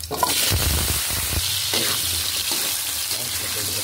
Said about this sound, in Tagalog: pagpiprito lang po natin ito sa ating pong patatas at carrots